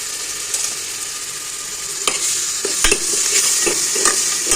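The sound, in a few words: ground ginger garlic onion tomato masala frying in oil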